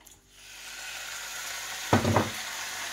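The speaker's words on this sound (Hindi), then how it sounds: "ये कढ़ाई ली, इसमें डाला जनाब ये चिकन" Chicken goes into a hot kadai (wok): a soft background hiss swells after a moment into a louder, brief burst of crackling sizzle near the end.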